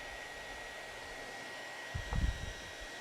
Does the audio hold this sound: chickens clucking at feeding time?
no